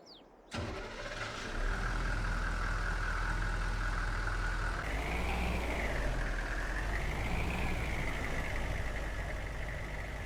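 A truck engine in Farming Simulator 22 cranks over and settles into a steady mid-pitched idle, then revs briefly, continuous and fairly quiet with no voices.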